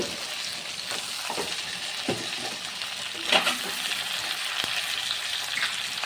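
Fried cauliflower and potatoes sizzle steadily in a pan while a spoon stirs and scrapes them in a few irregular, close strokes, one louder knock standing out, with no talking.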